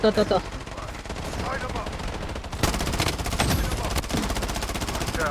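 Rapid bursts of gunfire and shots in a battle royale video game, loud and continuous, with game sound effects and a voice speaking over the shooting.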